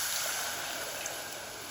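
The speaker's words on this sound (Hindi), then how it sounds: "इसके अंदर हम 1 कप भर के पानी का ऐड कर देंगे।" Water poured from a cup onto half a cup of sugar to make syrup gives a steady, even rush of splashing liquid, close and moderately quiet, with no voices.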